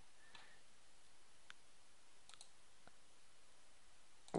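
Faint computer mouse clicks in a quiet room, a few sparse, isolated taps spaced irregularly over a low background hiss, with a slightly louder click at the end.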